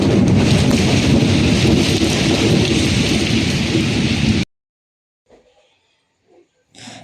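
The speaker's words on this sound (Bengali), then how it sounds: "তোমরা দেখতে পাচ্ছ যে কত জোরে বৃষ্টি হচ্ছে" Heavy rain pours down in a loud, dense roar for several seconds, then stops abruptly, leaving near silence with a few faint noises.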